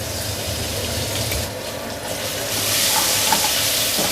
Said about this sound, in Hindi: 1 टेबलस्पून हम इसमें डाल देंगे लहसुन अदरक का पेस्ट